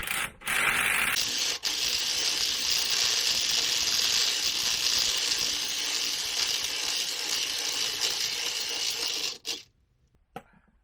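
A ratchet turns a 24mm socket on a Peugeot Boxer coil suspension strut, a close, continuous rapid clicking that runs for about nine seconds before stopping abruptly, followed by a couple of faint knocks.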